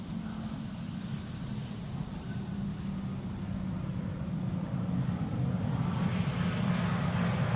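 A 15-year-old airliner built in 2010 rumbles at Schiphol Airport, its engine roar building gradually and steadily from moderate to louder as it nears, with no voices.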